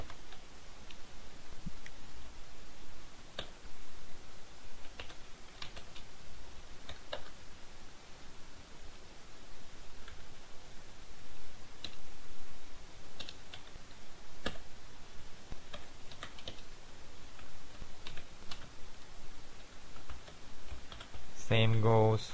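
Typing on a computer keyboard during web programming work, heard as sparse, soft key clicks and taps spread across a quiet, steady background.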